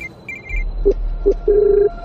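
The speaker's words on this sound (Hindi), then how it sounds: "फोन उसी मिट्टी के कमरे के अंदर बज रहा है" In a Hindi horror story, a phone rings with a few short electronic chirps and then a longer tone, loud and close, with no talk over it.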